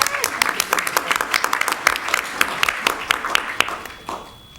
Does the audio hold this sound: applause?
yes